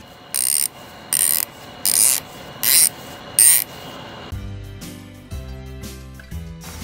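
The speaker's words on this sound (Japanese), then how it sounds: "スナップオンのラチェットといえばベンツマークとも言われたりする100枚スイベルラチェットです。" A Snap-on 100-tooth swivel ratchet clicks in five short, loud, fine-toothed bursts at an even rhythm, then a softer stretch of lower mechanical rattling and clinking follows up close.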